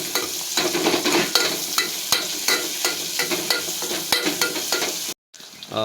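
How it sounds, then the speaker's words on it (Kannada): Fresh coriander leaves sizzle steadily in hot oil while being stirred, with repeated spoon scrapes against the pan over a constant crackling hiss, close and without voices. "ಜೊತೆಗೆ ಒಂದು ಸ್ವಲ್ಪ ಕೊತ್ತಂಬರಿ ಸೊಪ್ಪು ಹಾಕದ ಎಣ್ಣೆಯಲ್ಲಿ ಚೆನ್ನಾಗಿ ಹುರ್ಕೋಬೇಕು"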